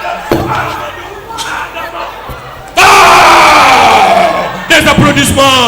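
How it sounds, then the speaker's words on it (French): A loud crowd at an awards ceremony in Dahra Djolof erupts into clapping and shouting partway through, with whoops and yells rising above the roar after a quieter, murmuring start. "Des applaudissements."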